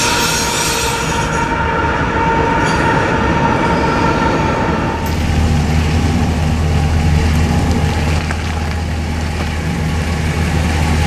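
A train rumbles past loudly and steadily, with rail noise and a rhythmic clatter of wheels that shifts partway through.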